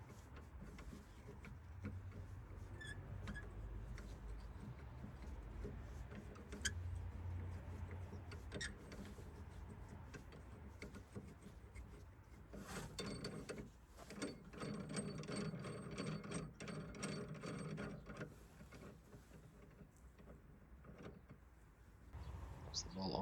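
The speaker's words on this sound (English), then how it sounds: "trying to say clean up the threads using a die that's slightly too big" Threading die being turned by hand to clean up the threads of a tie rod end on a barn-find Ford Capri 3.0 Ghia, giving repeated faint ratcheting and grinding clicks, with a person talking now and then.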